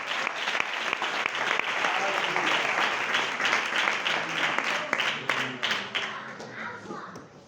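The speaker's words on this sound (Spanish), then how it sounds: "Un fuerte aplauso para Dios" A church congregation breaks into loud, sustained applause that fills the hall, dense clapping with a few sharp claps and faint voices underneath, thinning gradually toward the end.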